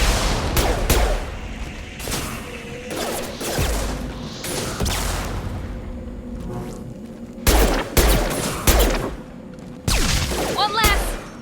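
Shotgun blasts and gunfire in the video game Mass Effect 2 come as a string of sharp, loud bursts spread unevenly through the combat, with mechanical clanks in between and voices shouting over the action.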